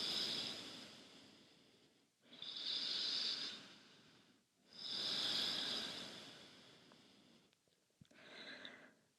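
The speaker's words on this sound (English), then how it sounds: "Take 2 more breaths." Slow, deep breaths during a power yoga pose: two long, airy exhalations of several seconds each, close and steady, followed by the start of a third, with no talking over them.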